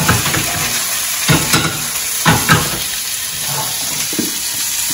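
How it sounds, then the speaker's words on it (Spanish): Steak and potatoes fry in a pan with ranchera salsa, giving a loud, continuous sizzle and hiss broken by a few clattering stirs of the pan. "Vamos a echar la carnita. Y luego le vamos a echar la salsita."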